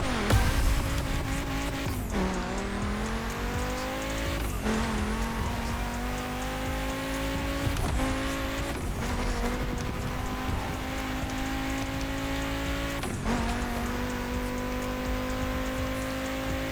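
Manual-shift race car in a racing video game, its engine note climbing steadily through each gear then dropping abruptly at four or five shifts, loud and close throughout without talk.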